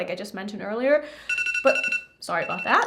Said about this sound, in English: That is my alarm going off.